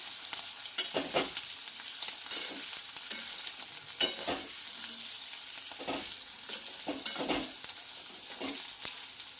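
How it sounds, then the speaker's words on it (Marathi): Boiled potato slices frying in a pan with oil, a steady crackling sizzle broken by scraping stirs at irregular intervals, close up with no talking. "याला छानपैकी असं फ्राय करून घ्यायचं आहे"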